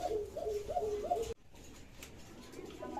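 Rajgolla pigeons coo at a pigeon market: a few close, soft rolling coos sound in quick succession, then give way to quiet background murmur.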